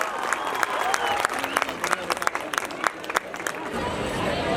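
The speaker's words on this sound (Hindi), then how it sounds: "तालियां।" Audience at a school annual function breaks into dense, steady applause, many hands clapping close and loud for nearly four seconds before it thins into crowd murmur.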